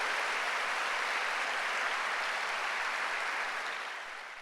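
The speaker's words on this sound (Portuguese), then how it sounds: "dê um aplauso bem forte a Ele" A church congregation at a gathering of El Shaddai churches claps hard and continuously, a thick even roar of hands that tapers off at the close.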